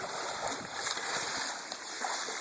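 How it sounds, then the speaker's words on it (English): Someone swimming fast through water, churning up a continuous run of close splashes and sloshing with small bursts along the way. "He's swimming very fast."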